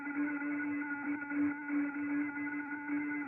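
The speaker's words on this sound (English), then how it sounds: "the music that the sun is creating sounds like this" Sonified oscillations of the Sun, shifted up into the audible range, form a steady, faint, layered humming drone of several sustained tones that pulse gently without a break.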